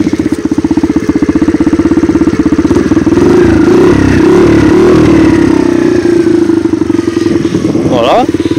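Motorcycle fitted with a new exhaust, new carburettor and new airbox, its engine running loud and close with a fast, steady thumping idle that surges briefly; someone talks over it.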